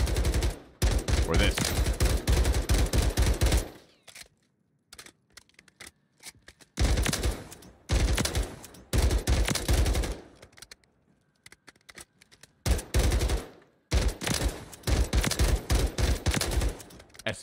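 Rapid bursts of SVA rifle fire in Warzone, loud and close, in several clusters of quick shots separated by short pauses, with a brief voice between bursts.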